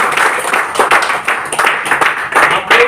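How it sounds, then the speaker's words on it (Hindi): A gathered audience at a family community event claps loudly and close by, in uneven surging bursts that swell and dip across the moment. "तो आप सभी लोगों के लिए एक बार जोरदार तालियां"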